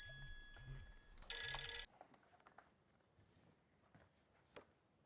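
A telephone rings indoors in a TV drama scene, a short burst of bright electronic trilling near the start, followed by a quiet room with faint footsteps and small movements.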